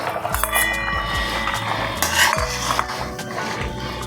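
Fried vegetables and bori lentil dumplings are tipped into a pot for shukto, with metal utensils clinking and scraping against the pan over a light sizzle in a quick, busy series of knocks.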